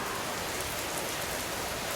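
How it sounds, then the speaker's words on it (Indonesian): Steady rain falls in an even, dense hiss with no pauses. "Hujan berlarian ke sana kemari."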